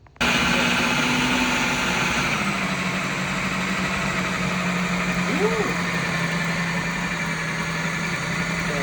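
An electric mixer runs loud and steady as it mixes keto bread dough, its constant motor hum shifting pitch slightly partway through, with a voice briefly over it.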